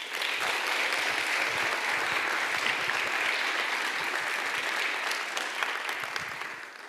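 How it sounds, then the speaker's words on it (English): Audience applause at a live climate justice dialogue event, a steady dense wash of clapping that holds at an even level for several seconds before easing slightly at the end, with no voices over it. "please give a very warm round of applause for Her Royal Highness"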